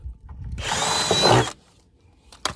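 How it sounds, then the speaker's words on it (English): A power drill whirs loudly for about a second as it bores a quarter-inch hole through material, then stops, followed by a short sharp knock. "And what I do, I drill me 2 holes, 1/4 inch holes."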